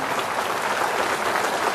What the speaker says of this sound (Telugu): మీరందరూ కూడా గట్టిగా చప్పట్లు కొట్టి అభినందించాల్సిన అవసరం ఉంది